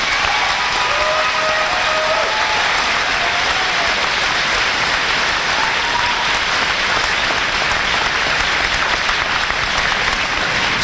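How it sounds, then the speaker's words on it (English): Loud, dense applause fills a high school graduation ceremony as the audience claps for the graduating seniors, a continuous, even wash of many hands that runs throughout without speech. "Please give them your applause."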